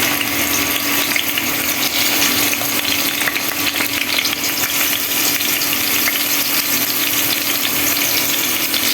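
Spice paste frying in plenty of hot oil while meat is cooked: a loud, steady, continuous sizzle with crackling that holds unbroken the whole time, with no voices.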